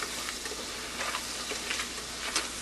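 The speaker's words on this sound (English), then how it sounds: "Give it a little stir." Food sautés in a pan while being stirred, giving a soft, steady hiss with light scraping ticks spread through it. The sound is fairly faint and there is no talking.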